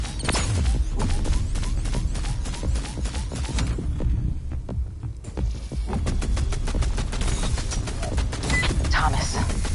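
Rapid gunfire in the VR Invaders game, dense repeated shots that fire almost continuously, stop briefly midway and then resume alongside a low throbbing hum.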